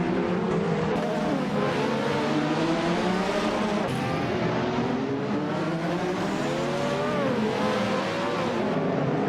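Turbocharged Lotus 100T race car engine in a racing video game, a loud sustained roar with shifting pitch and revving, with other cars close by throughout.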